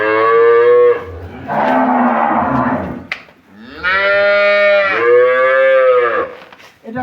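A dairy cow on a Bangladeshi cattle farm moos loudly and close by in two long, drawn-out calls, one after the other with a brief pause between them.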